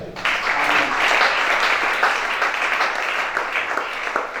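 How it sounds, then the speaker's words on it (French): A church congregation applauding together, a dense wash of clapping sustained for a few seconds at close range. "Acclamons chacun."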